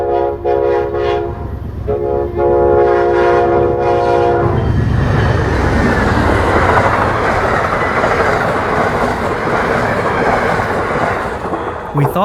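Amtrak 43, the westbound Pennsylvanian passenger train, sounds its horn in loud sustained blasts, then roars past close by with heavy rumbling and wheel clatter that continues steadily to the end.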